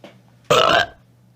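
A cartoon character in The Neverhood video game lets out a single loud, gravelly burp lasting about a third of a second over a faint low hum.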